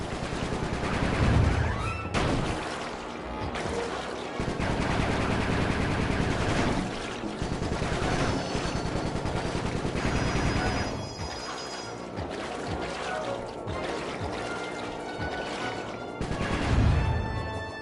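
Video game gunfire in Sly Cooper 3, loud rapid bursts of shots and crashing impacts packed over a continuous busy game soundtrack for the whole stretch.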